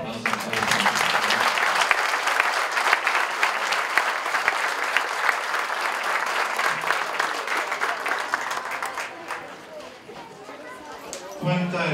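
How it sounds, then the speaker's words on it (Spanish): A church congregation breaks into loud, sustained applause with crowd chatter beneath it, thinning out toward the end. "Le damos un fuerte aplauso a todos."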